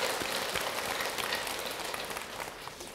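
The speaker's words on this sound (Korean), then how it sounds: "박수 한번 칠까요?" An audience claps together at a dharma talk in Jogyesa temple, a dense, even patter of many hands heard from a distance, steady for a few seconds and slowly tapering off.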